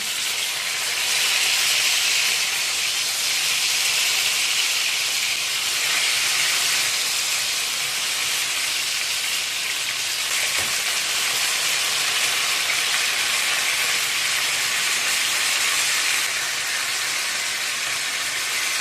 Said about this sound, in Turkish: Patlıcanlarımızın her tarafını çevirerek eşit şekilde güzel renk alana kadar kızartalım.